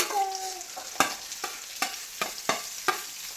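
Onions, garlic and green chilies sauté in hot coconut oil with a soft sizzle. Crisp scraping stir strokes of a spoon in the pan come at a rough, steady pace, close and with no talk.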